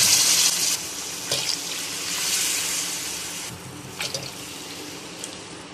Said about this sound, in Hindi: अब हम इसमें यखनी ऐड करेंगे।